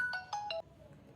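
A mobile phone rings for an incoming call, with a quick run of three or four bright electronic ringtone notes, fairly faint, then cutting off.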